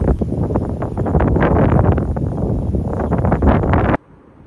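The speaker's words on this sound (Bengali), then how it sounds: "শুরু হলো ঝড় বৃষ্টি।" A night storm with lightning near Bakkhali, where wind and rain roar as a dense, loud, continuous rush that cuts off abruptly before the end.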